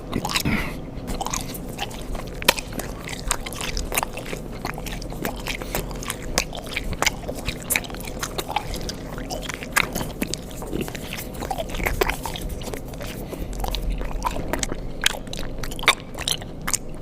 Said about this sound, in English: Can I do an ASMR of me chewing gum?